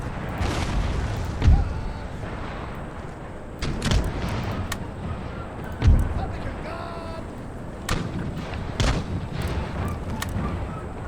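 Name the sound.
artillery gunfire in video game Empire Total War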